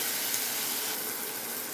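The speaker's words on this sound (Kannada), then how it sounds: "ನೋಡಿ, ಒಗ್ಗರಣೆ ಮಾಡಿದೆ" Spice tempering sizzles in hot oil for a drumstick sambar, a steady, dense hiss and crackle throughout, close and fairly loud with no talk.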